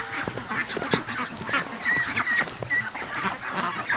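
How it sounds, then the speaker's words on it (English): Muscovy ducks stirring awake in their pen give scattered honking, raspy calls amid rustling and shuffling, fairly close and continuous, with no clear talk. "We're waking all the ducks up now."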